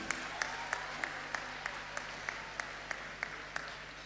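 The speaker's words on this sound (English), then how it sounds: "Give them a round of applause" At a community college graduation ceremony in St. Vincent and the Grenadines, a hall audience applauds the combined choir, faint and distant, with sharp claps standing out at a steady, regular beat over a soft wash.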